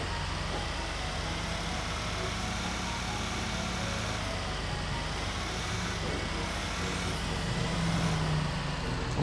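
A tow truck rolls through snowy city streets in GTA 5, its engine giving a steady, loud drone with constant road rumble that swells slightly near the end.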